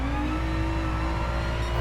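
A sim racing car engine in third gear runs at a sustained high-revving drone with a steady pitch near the rev limiter, loud and continuous throughout with no talk.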